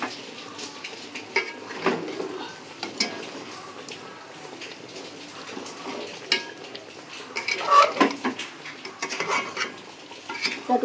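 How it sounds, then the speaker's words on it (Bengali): Meat is pressed and sautéed in a pan in its own released oil and juices, with irregular close scraping and clattering bursts over a soft background sizzle. "একটু চাপা দিয়ে দিয়ে কষাচ্ছি যাতে মাংসটাও তাড়াতাড়ি সেদ্ধ হয়ে যায়।"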